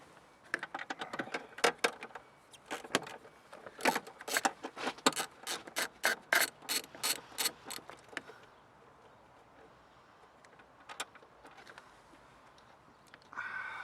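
An E8 Torx socket ratchets as it unscrews a wiper motor bolt on a 2008 Vauxhall Vectra 1.9 CDTI, a run of quick, close clicks that stops partway, then quiet with a few later clicks.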